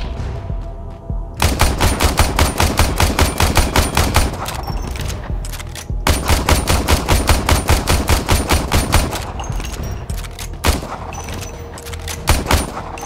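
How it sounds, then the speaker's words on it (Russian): Warframe gunfire: long bursts of rapid automatic fire, loud and close, broken by a short pause near the middle and ending in a few scattered shots. "Откуда там стреляют?"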